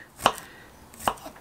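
A knife chops through garlic cloves, two crisp, close strikes about a second apart against an otherwise quiet background.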